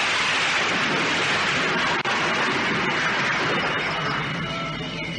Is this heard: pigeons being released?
no